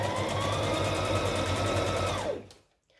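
A sewing machine stitches along the edge of a stretchy bodysuit seam, running at a steady, loud hum for over two seconds before winding down and stopping, leaving near silence.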